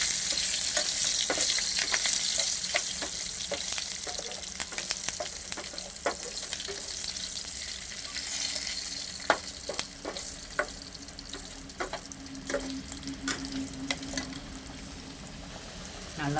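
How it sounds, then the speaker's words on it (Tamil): Potatoes frying in a pan with onion, curd and chili powder, a steady sizzle with scraping stir strokes and clicks of a spoon throughout, fairly close. "இப்போ நான் சொன்ன இன்க்ரீடியன்ட்லாம் போட்டு நல்லா சேர்த்து வறுத்துக்கோங்க"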